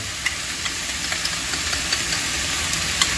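Hoisin sauce goes into a hot pan of fried rice and sizzles in a steady, close, bright hiss. Faint little pops and crackles come through it, with no voices over it.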